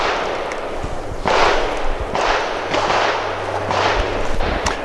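Sig P365 XL pistol rounds fired outdoors: four sharp cracks at uneven intervals, each with a short hissy tail, loud and close, with a low hum beneath.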